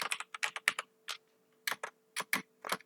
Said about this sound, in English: I'm typing the first basic program in this.